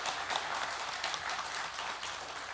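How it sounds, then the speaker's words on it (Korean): Congregation applause of encouragement at the close of a Sunday church service: a soft, continuous wash of many hands clapping, heard from a distance and sustained evenly throughout. "마지막으로 격려의 박수 하시겠습니다."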